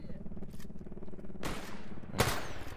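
Machine gun fire in the video game S.T.A.L.K.E.R. GAMMA, a rapid rattling burst followed by two sharp, loud gunshot blasts, with faint movement sounds in between.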